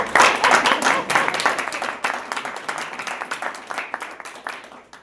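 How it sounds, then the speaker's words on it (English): Round of applause for candidates at a community meeting, a modest group clapping with distinct individual hand claps, strong at first then thinning and fading over a few seconds. "Let's give them a healthy round of applause."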